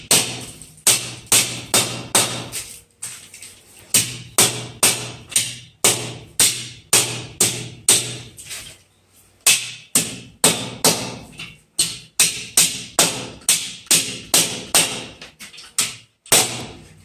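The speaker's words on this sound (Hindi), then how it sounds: "मैं यहाँ पे क्या कर रहा हूँ, हथौड़े से स्क्रू को दबा दे रहा हूँ" A hammer knocks screws into a split AC mounting stand, sharp loud close blows struck in quick bursts of about four to six, with short pauses between the bursts.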